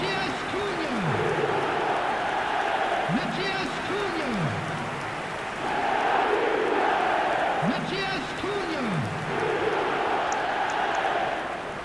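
Stadium crowd chanting in the football game eFootball, a broad steady roar with rhythmic rising chants repeating at intervals, loud and continuous throughout.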